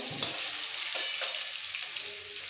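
Potatoes fry in a pan for a Lote fish curry with vegetables, a steady close sizzle with a few soft stirring scrapes and no voices.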